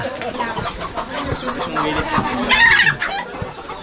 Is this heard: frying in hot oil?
no